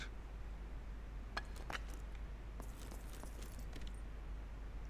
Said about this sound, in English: There's no further uses for blockers keys, they've been discarded